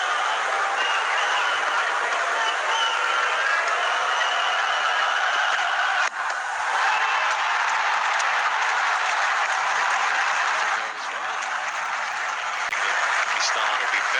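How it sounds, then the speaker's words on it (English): Stadium crowd at a Pakistan versus England cricket match roars and cheers after Abdul Razzaq's boundaries, a loud, dense, sustained wall of applause and shouting that barely dips across the whole stretch. "Crowds are delirious. Absolutely ecstatic."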